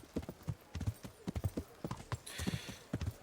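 Horse hooves clip-clopping in the medieval video game Kingdom Come Deliverance, a quick steady run of close, distinct hoof strikes on hard ground, with a brief whinny-like sound partway through.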